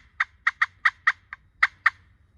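Sharp, staccato turkey cuts from a slate call, seven or eight quick clucks in an uneven burst, close and crisp with no talking.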